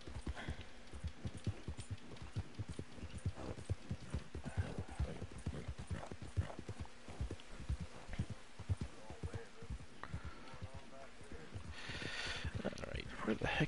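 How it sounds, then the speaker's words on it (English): Horse hooves clip-clopping in a fast, steady rhythm in the video game Red Dead Online, fairly close and clear, with people talking over it at times. "You're just on foot chasing a horse."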